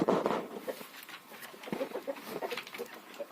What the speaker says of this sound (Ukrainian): Тут у нас півники, одна курочка.